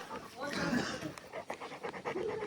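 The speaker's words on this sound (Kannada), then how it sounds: "ಇಲ್ಲಿ ತೋಟದ ಹತ್ರ ಅಣ್ಣ ಇವ್ರ ಮೇಲೆ ಒಂದು ನಾಯಿ ಇದೆ, ರಾಟ್ ವೀಲರ್." A Rottweiler pants close by at a farm garden, a steady run of quick, breathy huffs, with people talking over it.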